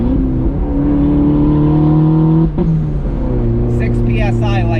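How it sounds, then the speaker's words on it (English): A turbocharged 1.6-liter car with a custom 2.5-inch straight pipe exhaust revs loudly and steadily, its engine tone rising and holding before a brief dip, then a hissing blow-off valve release and chirps at the end. "The blow-off noise is absolutely obnoxious, but honestly, I really like it"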